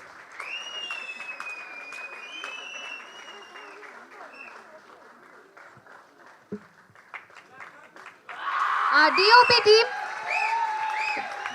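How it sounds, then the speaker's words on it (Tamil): An audience at a film teaser launch event claps, light and scattered at first under a speaking voice, then bursting into loud, sustained applause near the end. "ஒரு பெரிய கைத்தட்டல் கொடுத்துடலாம்."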